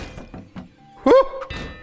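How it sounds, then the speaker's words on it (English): A spider exploding in the video game Kill It With Fire, a short hollow thunk with a bright ringing burst in the middle of a run of quick game clicks and taps. "Die! Yeah, explode for me."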